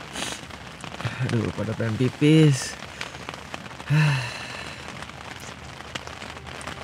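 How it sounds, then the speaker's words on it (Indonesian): Steady rain falls at night on a mountain, a dense constant patter of drops on surfaces filling the background, while people speak briefly and a voice lets out short sighs over it. "Jam 2:30 pagi dan hujan belum juga berhenti."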